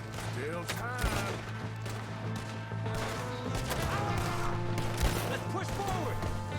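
Gunfire in the video game Red Dead Redemption 2 rings out in scattered shots and short volleys over a steady hum, with people's voices mixed in around the shooting.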